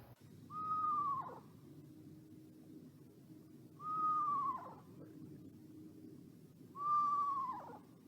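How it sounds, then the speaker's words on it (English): Screech owl calls played back outdoors in the woods at night: three high, whistled descending calls spaced about three seconds apart, each ending in a quick wavering drop, moderately faint over a steady low background hiss. "So the first owl I'm going to play is the sound of a screech owl."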